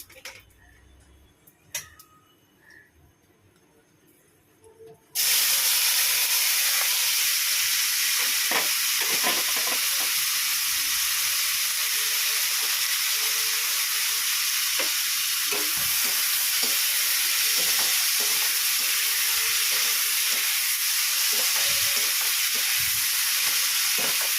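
Onions, with garlic added, sizzle steadily in hot oil after a quiet start, a continuous loud frying hiss with occasional clicks and stirring scrapes.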